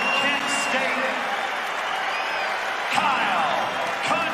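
Penn State fans at a college wrestling match roar in a continuous swell of cheering and applause, with scattered sharp claps and thumps standing out, while an announcer speaks over the noise.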